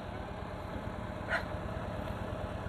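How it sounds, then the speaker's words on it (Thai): A Kubota engine powering a pump that draws groundwater from a well out in open rice fields, a low steady idling drone with a faint rhythmic thrum, constant and unchanging, with no voices. "รถเครื่องยนต์คูโบต้านะครับเป็นต้นกำลังในการดึงน้ำจากใต้ดินขึ้นมานะครับ"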